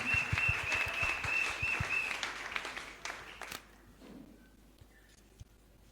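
Loud applause from a church congregation fills the first few seconds alongside a sustained tone, then fades away into near quiet with a few scattered sounds.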